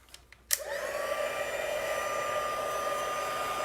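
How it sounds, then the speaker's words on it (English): A heat tool clicks on and then blows with a steady, close whirring hiss while melting white embossing powder; brief handling taps come just before it starts. "now I'm going to bring in my heat tool"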